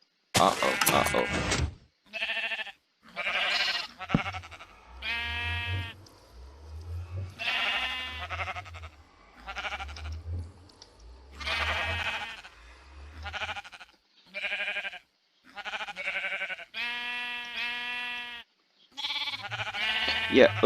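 A flock of sheep in Minecraft bleats repeatedly, with distinct, close, loud bleats recurring in a fairly regular rhythm alongside low thumping sounds, with no talk over them.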